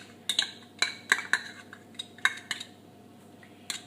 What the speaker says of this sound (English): Continuously stirring because you don't want the sugar to burn underneath